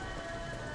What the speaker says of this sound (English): It's a rainy, dirty night in Tokyo.